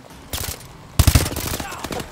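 Automatic weapon fire in Call of Duty: Advanced Warfare, a quiet stretch giving way to a loud, rapid burst of shots near the end of the first second, then continued crackling gunfire mixed with game noise.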